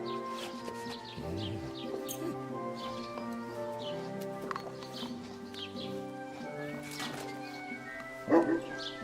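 A dog in the video game Kingdom Come Deliverance II gives a few short barks and yips over soft ambient music, with one sharper bark near the end.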